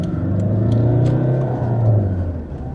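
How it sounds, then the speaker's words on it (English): A Fiat Multipla car with no synchromesh pulls away and shifts into second without the clutch. The engine hums loud and close, its pitch rising and dipping once around the shift, with a few faint clicks above it. "Clutchless gear change into 2nd."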